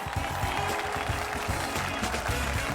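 Concert audience at a Crimean Tatar book fair applauding warmly: dense, continuous clapping from a full hall, steady and fairly loud throughout with no pause.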